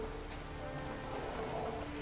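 Rain falls in The Witcher 3: Wild Hunt, a faint, steady patter and hiss of drops on surfaces with no pauses across the short stretch.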